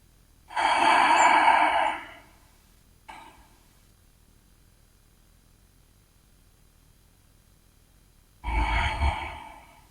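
Slow, deep breaths during a yoga pose: a long, loud breathy exhale up close, a faint short one, a long quiet pause, then another strong breath near the end.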